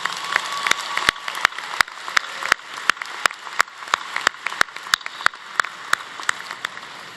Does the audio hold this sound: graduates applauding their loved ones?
yes